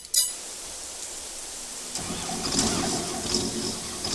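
A Swaraj combine harvester in Farming Simulator 22 sits silent after a short click, then its engine starts about halfway through and settles into a steady, moderately loud rumbling idle that runs to the end.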